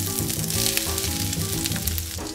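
Onions frying in about two tablespoons of oil over medium heat make a steady, close sizzle and crackle with no voices.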